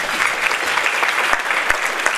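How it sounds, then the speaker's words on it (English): An audience of about 320 people at a women's event claps in a dense, steady round of applause, loud and continuous throughout with no speech over it. "So give yourselves a round of applause."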